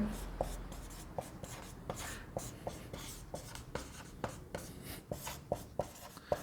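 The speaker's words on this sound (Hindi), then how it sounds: "मैं इसको ऐसे लिख देता हूं यहां पे" Pen writing on paper during a simple interest maths lesson, a steady run of short scratchy strokes and taps close up, with no talk over it.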